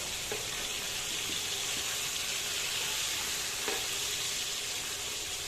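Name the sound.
rohu fish frying in pan, being turned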